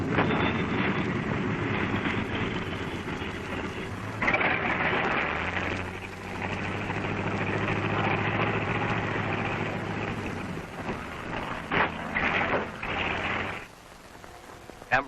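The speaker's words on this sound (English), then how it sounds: "Photographic planes return from Bikini and land on their faces." Military photographic planes landing, a rough, noisy drone of aircraft engines with rumble and wind-like hiss that rises and falls over about fifteen seconds before dropping away.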